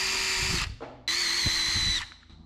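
A power drill with a wire brush attachment scrubs dirt off the coil of a 1970 International Loadstar truck. Two loud, close bursts of high whine are separated by a brief pause with a few knocks.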